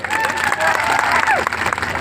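An outdoor crowd at an Aam Aadmi Party political rally in Dahod claps in a continuous burst of applause, with some voices and whistles mixed in.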